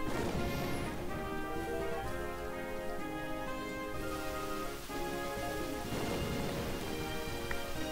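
A steady rush of wind and rain plays throughout a scene in the video game Pokemon White, heard together with layered musical tones and no talking.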